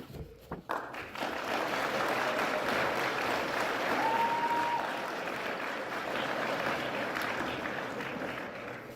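Applause from a banquet audience at a student design competition awards ceremony, a sustained, moderately distant wash of clapping holding steady and tapering slightly toward the end.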